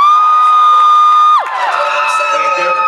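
Small live audience at an arts night cheering, whooping and yelling loudly, a sustained bright whoop followed by a burst of mixed crowd shouts close by.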